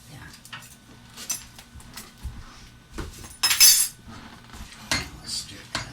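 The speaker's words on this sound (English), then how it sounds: "Let's stir it up a bit." Utensil stirring a cabbage dish in a pot on the back burner of a home stove, giving irregular close clinks and scrapes of metal on cookware at a moderate level.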